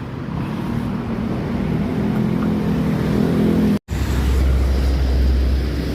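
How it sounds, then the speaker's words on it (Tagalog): Road traffic on EDSA northbound beside freshly laid cement, a steady loud rush of passing vehicles and engine drone, close and continuous, with a brief dropout near the end. "Kaya eto, nagdudulot po ng traffic dito sa northbound area."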